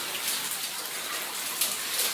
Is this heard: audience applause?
no